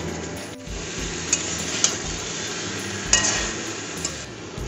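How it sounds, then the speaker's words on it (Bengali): Spice paste with sugar and coriander powder frying in oil in a pan for a vegetarian pumpkin dish, stirred steadily under a constant low sizzle, with a few light clinks of the spoon against the pan. "ভালো করে উল্টে পাল্টে মিক্স করতে হবে"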